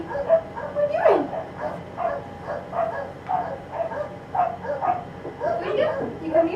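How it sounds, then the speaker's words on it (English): Big dogs barking loudly outdoors in bursts at a distance, mixed with whimpering and yips, while someone talks over them. "I hear the big dogs. They're being loud out there"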